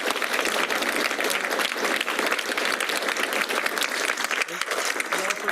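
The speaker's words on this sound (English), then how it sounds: "Can we get a round of applause for all the awardees today?" Steady, dense applause fills the room for awardees at an IT recognition awards ceremony, many hands clapping continuously at an even level with no pauses.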